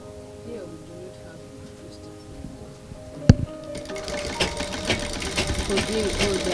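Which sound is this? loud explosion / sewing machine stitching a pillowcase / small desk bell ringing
sewing machine stitching a pillowcase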